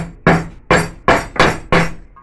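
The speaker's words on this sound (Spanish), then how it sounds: "este es un martillo de goma" A rubber mallet taps a wheel bearing seal into place on the front hub of a first-generation Daewoo Matiz, five firm, evenly spaced thuds, close and loud, with no talk.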